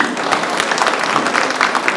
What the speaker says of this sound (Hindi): ताली बजाकर उन लोगों की।